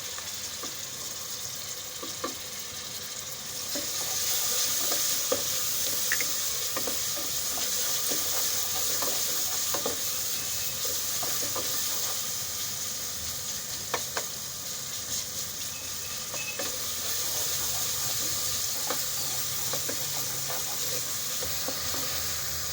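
Onion, tomato and green chillies fry in a pan with a steady sizzle and hiss, close by, interrupted by occasional spatula scrapes and taps, and the sizzle swells louder partway through. There is no talking.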